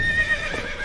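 A horse whinnies over a brief, faint patter of hooves in a short, dramatized historical scene.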